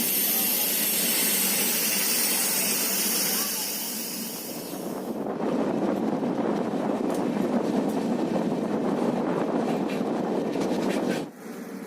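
Passenger train on the New Delhi–Kanyakumari route, a steady broadband rumble and rush of running carriages, loud and continuous, with a brief dip near the end.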